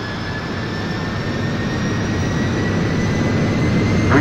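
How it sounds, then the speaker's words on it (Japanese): Airliner jet engines roar at takeoff in the video game Jet De Go! 2, a loud, steady, broad whoosh with a thin high whine that builds slightly as the run goes on. "この飛行機は間もなく離陸いたします。"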